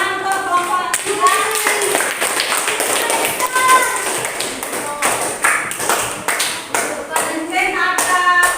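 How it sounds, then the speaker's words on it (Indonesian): Children in a classroom clap together for a student group during a science lesson, brisk rhythmic hand claps, close and steady, with voices mixed in throughout. "Tepuk tangan untuk kelompok 3."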